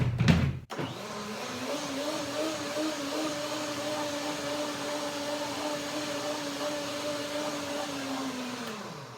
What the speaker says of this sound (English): Here, I blend one more time.